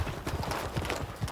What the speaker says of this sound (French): regardez comment passe le cheval dessous